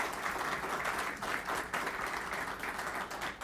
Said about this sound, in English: So you can give her a round of applause